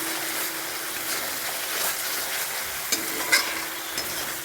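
Turmeric, salt and chili powder fry in hot oil with a dense, steady sizzle, broken by a couple of brief scraping stirs, close and continuous without speech.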